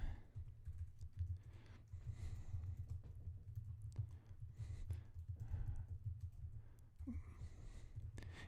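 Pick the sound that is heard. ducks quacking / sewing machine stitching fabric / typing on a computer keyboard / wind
typing on a computer keyboard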